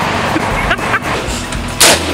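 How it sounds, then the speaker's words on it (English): Guns firing at a shooting range: a few sharp reports spaced irregularly over a constant outdoor roar, the last shot loudest and closest. "So apparently, we're going to shoot some guns."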